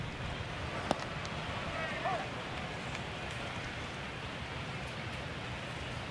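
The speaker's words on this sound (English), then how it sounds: "And the rain coming down." Rain comes down steadily on a baseball stadium during a Detroit at Chicago game, a dense, even hiss filling the whole stretch with only a couple of faint clicks.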